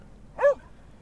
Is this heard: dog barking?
yes